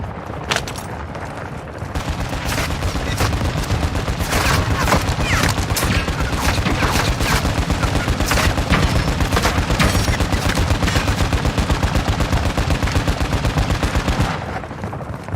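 Sustained gunfire in Call of Duty MW2 DMZ, dense rapid automatic bursts and overlapping shots rolling on loudly for over ten seconds, with game voice chatter faintly mixed in.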